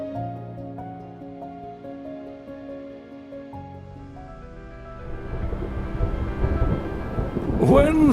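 A thunderstorm on Liwa Plain, Zambia, builds from a quiet start into a deep rolling rumble of thunder and rising rain noise, ending in a sharp loud crack.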